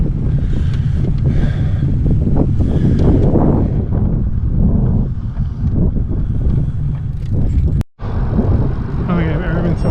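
Strong wind buffets the microphone during a bicycle ride along a hilly Great Lakes waterfront trail in Ontario, a loud continuous roar with brief dips, and a voice speaks under it.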